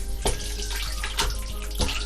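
Pork stock pours into a pot for pork vindaloo, a steady close liquid splash with a few brief louder gushes, heard alone without voices.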